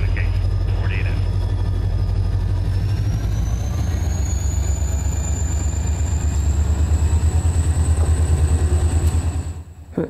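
An HO scale model train rumbles along on a layout with a steady, loud low mechanical drone and a rising whine, close by, fading toward the end, with people talking over it.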